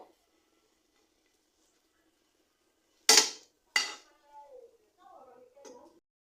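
Egg, milk and bread toast flipped in a pan with two spatulas, heard as two sharp metallic clacks close together, followed by softer scraping and a faint voice.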